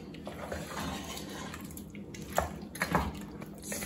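Water poured into a pot of spiced goat-meat mutton do pyaza, a Mughal dish: a steady liquid wash with scattered drips and light clinks of the pot, no voices.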